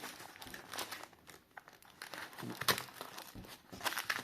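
Close, soft crinkling and tearing as packing tape is cut open, with scattered scratchy rustles and a few sharper snips throughout.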